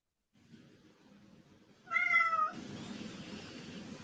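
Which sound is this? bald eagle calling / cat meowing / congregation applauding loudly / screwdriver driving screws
cat meowing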